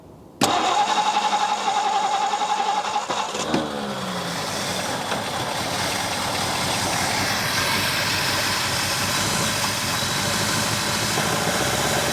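A 1964 Ford Galaxie 500 barn find, carburetor needing repair, cranks and fires up, then settles into a loud, steady rumbling idle that carries on close by for several seconds.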